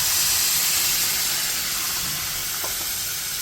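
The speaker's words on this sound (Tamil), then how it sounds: "இந்த ஸ்டேஜில் நம்ம கரைச்சி வச்சுருந்த வெல்லத்தை இதில் விட்டுக்கலாம்." Jaggery syrup poured into coconut frying in a pan for kozhukattai filling, giving a steady, loud hissing sizzle throughout with faint stirring scrapes near the end.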